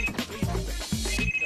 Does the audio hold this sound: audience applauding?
no